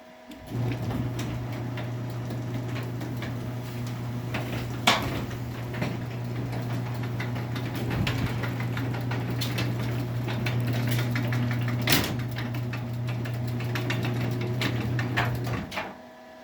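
A Stanley Standard garage door opener runs a full cycle on a 6x7 Sears pan door, giving a steady, close motor hum with rattling and clicking throughout, a few sharp knocks along the way, and a stop at the end.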